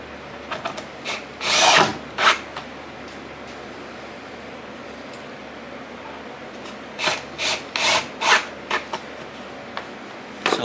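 Wood boards for a table saw sled are handled with bursts of rubbing and scraping, one cluster early and a quick run of several short strokes later, close by over a quiet room hum.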